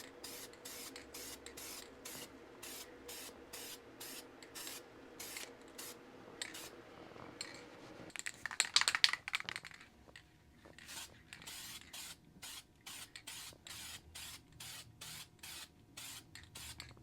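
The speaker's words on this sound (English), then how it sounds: "Let's give her a spray." Short bursts of aerosol spray coating a piece prepared for laser engraving, a rapid series of sharp hissing puffs in a regular rhythm, with a louder continuous spray in the middle, faint and close.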